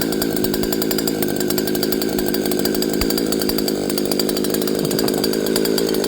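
A modified two-stroke brush cutter engine with an added start button roars loudly and continuously at high revs, a buzzing, raspy drone with no pauses.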